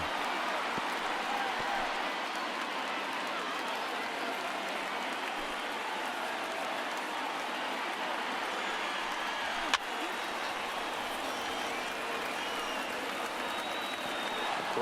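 A stadium crowd of over 39,000 in the MLB The Show 19 baseball game, Dodgers versus Giants, roars and cheers in a dense, continuous wash with two outs in the ninth, sustained and loud throughout with one brief sharp knock.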